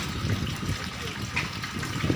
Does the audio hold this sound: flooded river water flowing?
yes